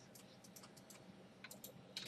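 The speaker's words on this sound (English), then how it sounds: "delete button on the keyboard, and it's gone" Light keystrokes tap on a computer keyboard, including presses of the delete key, in a quick irregular patter of soft clicks heard close and faint with no speech.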